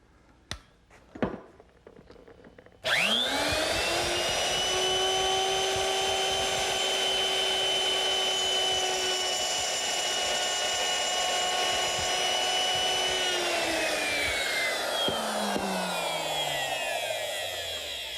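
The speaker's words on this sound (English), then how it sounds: "I'm going to use my router, which is set up with a 1/4 inch round nose bit and a rip fence" A handheld router fitted with a 1/4 inch round nose bit and rip fence cutting a groove in wood for a harvest table, a few handling clicks then a loud steady high motor whine while cutting, spinning down at the end.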